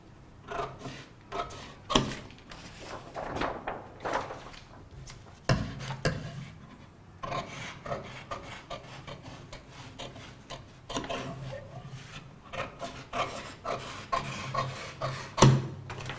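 Scissors cut fabric for a children's shirt pattern, making soft, irregular snips and rustles with a few sharper clicks and taps, faint and close, with no talking.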